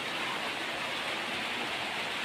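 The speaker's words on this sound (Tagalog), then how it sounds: "umuulan, malakas ang ulan dito sa amin" Heavy rain pours steadily and loudly, a dense hiss with no breaks and no other sounds.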